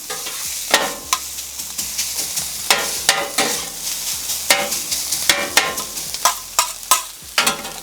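Pulled pork sizzles and fries on a flat griddle for BBQ fried rice, with repeated scraping and stirring strokes of a spatula rising above a steady close hiss.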